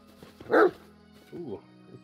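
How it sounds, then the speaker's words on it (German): A dog in the Pathfinder Kingmaker video game gives a single sharp, close bark followed by a softer yip or whine, over a quiet game background. "Ein Hund."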